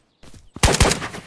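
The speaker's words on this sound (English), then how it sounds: "I do hear someone shooting at the back" SKS rifle fire heard at a distance in the shooter game Ghosts of Tabor, a short pair of muffled cracks after a faint lead-in, brief and punchy over a low ambient bed.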